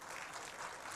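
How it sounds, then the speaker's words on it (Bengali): Faint, brief round of audience applause for debaters at an annual conference, an even wash of distant clapping. "তাদের জন্য একটা জোরে করতালি।"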